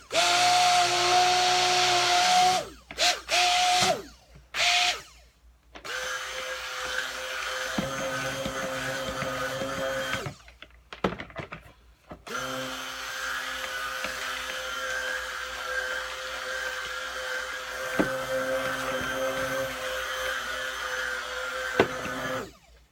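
A stick blender mixes cold process soap batter in a winterberry batch, a whining motor buzz heard in repeated bursts of varying length, with short stops between runs and faint handling clatter.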